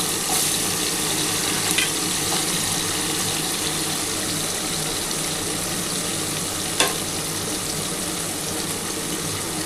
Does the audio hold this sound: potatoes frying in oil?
yes